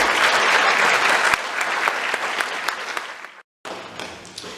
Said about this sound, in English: why don't we give one round of applause to everybody, just as a thank you